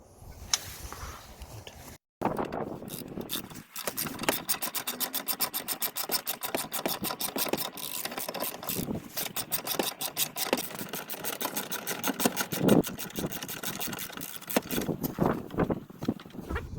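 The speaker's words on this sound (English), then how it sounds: "we'll have to remove this 10mm bolt here" Ratcheting a 10mm bolt off the air filter box of a Honda Civic 2.2 CTDi diesel, a steady close rasping scrape repeating over many seconds after a brief pause.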